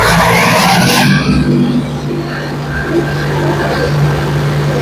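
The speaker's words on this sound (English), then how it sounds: "You can run it up manually by pressing the high RPM switch here." Tow & Blow Frost Fan 650 engine being run up to high RPM, a loud burst of noise at the start giving way to a steady engine drone with a sustained low hum, close and continuous.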